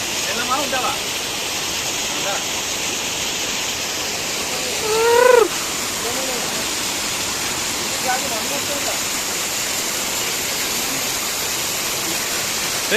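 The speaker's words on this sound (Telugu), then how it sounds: "కొండల నుంచి వాటర్ ఫాల్." Steady rushing roar of a waterfall coming off hills in the Maredumilli forest, Andhra Pradesh, fills the background, with a brief voice calling out partway through and faint speech at moments.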